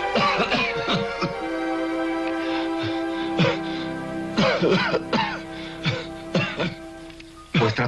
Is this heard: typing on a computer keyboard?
no